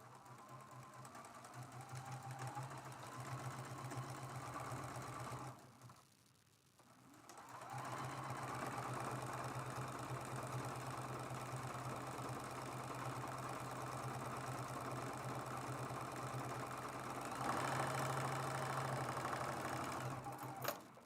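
A sewing machine stitches a quilt seam on a small patriotic paper-pieced quilted mug rug, a steady close hum that pauses briefly partway through, then resumes and runs on.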